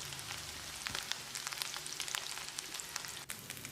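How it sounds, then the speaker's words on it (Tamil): Mushrooms and potato pieces fry crisp in a pan, a close, even crackle of sputtering oil with scattered sharp pops throughout and a brief dip where something is moved. "எல்லா பக்கமும் கிறிஸ்பியாக ஃப்ரை ஆகிறதுக்கு ஒரு 3-4 நிமிஷம் பிடிக்கும். திருப்பி விட்டுட்டு இருக்கணும்."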